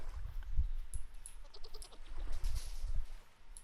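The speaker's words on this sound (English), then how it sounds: "Baby goat." A baby goat in the video game Vintage Story gives a few short, faint bleats over a low rumbling background.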